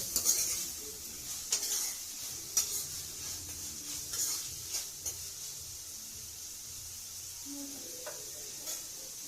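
An egg frying in a pan at home, a soft steady sizzle with faint scraping and light clinks of a utensil, quiet and close, no voices over it.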